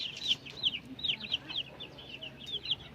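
A newborn chick with four legs chirps in quick, high, repeated peeps, about eight sharp calls in a few seconds, close and alone over a faint background hiss.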